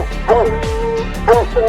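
Hound dogs bay at a treed bobcat in Montana, close and loud, with long wavering howls and yips that overlap and fill the air.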